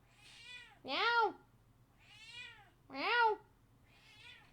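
A cat gives two loud, close meows, alternating with three softer meow-like calls from a person imitating it, in a quiet room.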